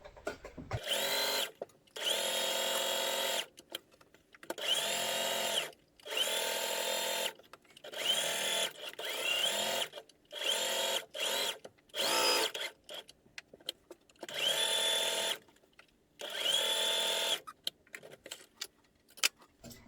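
A sewing machine stitching a LARP belt pouch runs in quiet mechanical bursts of a few seconds each, separated by short pauses as the fabric is turned and repositioned.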